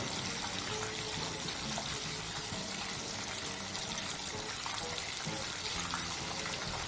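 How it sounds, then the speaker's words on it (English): Hot oil pours over chicken pieces in a pan, a steady, close hiss and trickle of liquid that runs unbroken for the whole stretch with no pause. "Just proceed to pour your oil right over"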